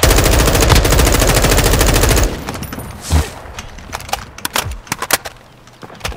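Rapid automatic AK-47 fire in a video game, a dense burst of loud shots for about two seconds that stops abruptly, followed by scattered single shots and impacts in the distance.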